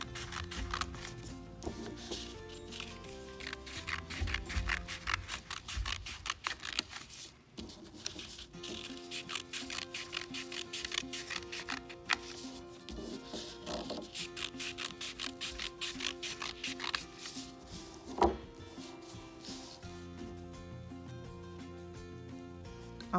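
Scissors cut through paper to shape a paper loom in a long run of quiet, close snipping and rustling, with the paper shuffling and rubbing throughout and no talking.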